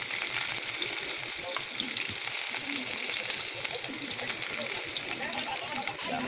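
Garlic sizzles and crackles steadily in hot oil in a pan while cooking chicken adobo, a dense continuous frying hiss with occasional stirring, loud and close throughout.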